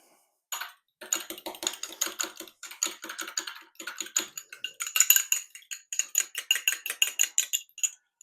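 A cracked egg is beaten in a container, producing rapid, rhythmic close-up clicking taps in quick bursts with short pauses between them.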